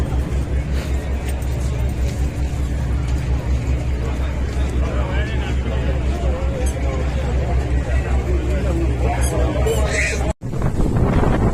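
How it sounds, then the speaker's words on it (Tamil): Boat ride at sea off Havelock Island in the Andaman Islands, a steady loud engine drone with wind and water rush, continuous throughout with a brief dropout near the end. "ட்ராவல் ஆக்டிவ் போட்டில் பயணம்."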